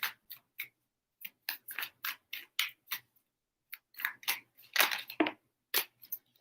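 A deck of tarot cards riffled and shuffled up close, giving bursts of crisp papery flutters and snaps in short separated runs, with brief pauses between shuffles.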